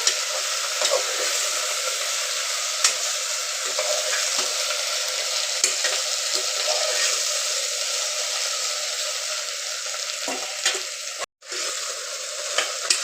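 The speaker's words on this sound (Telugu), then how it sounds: "బెండకాయలు అయితే మంచిగా అయితే నూనెలో వేయించుకోవాలి" Okra sizzles steadily in hot frying oil, a close, even hiss with occasional stirring scrapes and one brief cut near the end.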